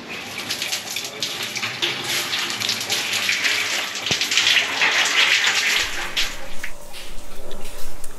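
Shower running water at the end of a trip: a steady hiss of spraying water that continues throughout, loud and close, its texture shifting slightly near the end.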